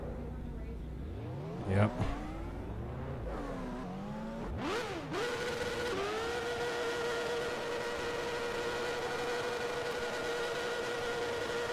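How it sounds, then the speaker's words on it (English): IndyCar engine sounds fitted to a NASCAR Cup car in a racing video game, racing at a 2013 version of the track: rising and falling revs as the car shifts, then settling into a steady high whine, with brief talk. "You like the IndyCar sounds with the cup car?"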